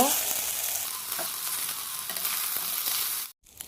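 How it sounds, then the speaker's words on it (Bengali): Rice frying and being stirred in a pan for biryani gives a loud, steady hiss and crackle throughout, cut off abruptly near the end. "এবার এর ভিতরে দিয়ে নিতে হবে চাউলগুলো আমি দিয়ে নিচ্ছি আর আমি এটাকে ভালোভাবে নেড়ে কয়েক মিনিট ভেজে নিব"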